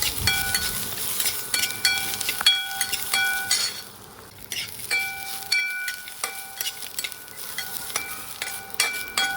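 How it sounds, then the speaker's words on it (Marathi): Garlic and green chillies roast in a hot pan with a crackling sizzle, broken by repeated scraping stirs and bright metallic clinks of the spatula against the pan, close and lively, with no talking. "त्याच्यामध्येच आपण थोडासा लसूण टाकूया आणि मिरच्या टाकूया भाजून घेऊया"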